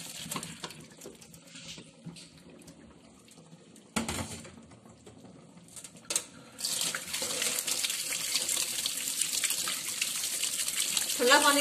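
Cold water pours over boiled drumstick leaves laid on a cloth in a mesh sieve, starting after some handling clatter and becoming a loud steady gush that continues to the end.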